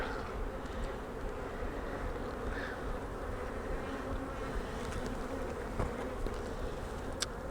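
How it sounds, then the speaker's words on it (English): A swarm of honey bees is being captured, heard as a continuous, close buzzing hum of many insects that fills the whole span, with a few faint clicks and knocks but no speech. "There you can see bees down in there."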